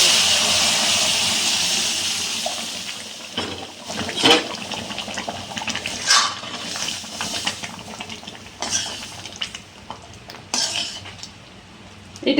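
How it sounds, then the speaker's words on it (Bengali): Cooked dal poured into a hot pan of tempering, giving a scattered run of clinks, splashes and wet sizzling bursts rather than a smooth steady sound. "ডালটা এটার মধ্যে দিয়ে দেবো।"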